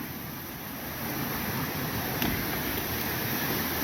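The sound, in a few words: flowing water of Trout Creek on the Appalachian Trail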